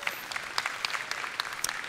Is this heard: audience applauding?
yes